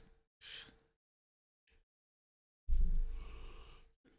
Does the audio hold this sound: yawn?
yes